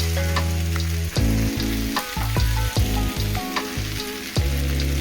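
Brinjal sabji frying in a pan with oil, sizzling loudly and steadily while a spoon stirs it in several bursts of scraping and clatter.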